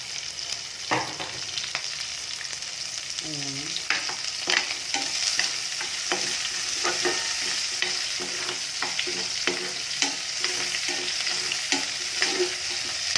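Onions sauté in a pan for a mung bean stew, with a continuous close sizzle broken by frequent spoon scrapes and clacks of stirring, no one speaking.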